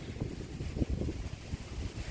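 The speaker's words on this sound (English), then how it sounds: "It's a little windy out today." Wind gusts outdoors on a fall day beside a mailbox decorated with pink-painted flag, mums, kale and a scarecrow, a steady low rumble buffeting the microphone with irregular gusts, no voices.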